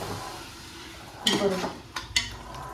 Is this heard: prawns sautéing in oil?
yes